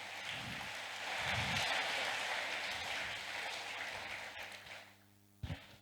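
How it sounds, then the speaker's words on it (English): Audience applause at an agricultural event, GYAS 2022: dense, sustained clapping from a crowd that swells, holds steady and then tapers off, with a single sharp thump just after it fades. "Please clap once again for..."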